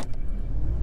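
A giant machine from the video game Giant Machines 2017 rumbles past, a heavy, close, low engine drone that stays steady through a brief pass.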